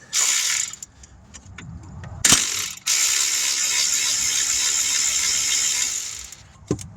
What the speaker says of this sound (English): get that nut off of there, off the back side of the alternator like that